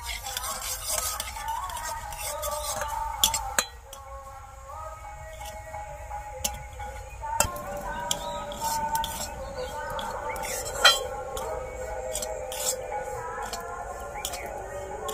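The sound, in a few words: stirring semolina into melted mixture in a pan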